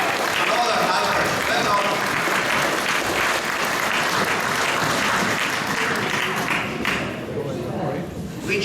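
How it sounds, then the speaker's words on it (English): An audience at an accordion band Christmas concert applauds in a dense, loud, sustained burst of clapping that thins out toward the end. "Ladies and gentlemen, give them a big round of applause."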